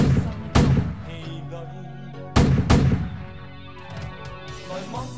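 Three sharp gunshots ring out in Amsterdam's Chinatown: one loud shot, then two in quick succession about two seconds later. Each has a ringing tail over low background noise.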